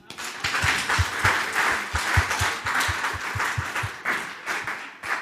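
A church audience applauds and cheers for Jesus with dense, sustained clapping and a rhythmic beat running under it, loud and continuous throughout.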